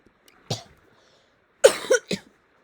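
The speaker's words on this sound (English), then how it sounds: "Sorry, I had to clear my throat" Three rough throat-clearing bursts from one nearby person, a short one first and then two quick ones close together after a pause, with no other sound in between.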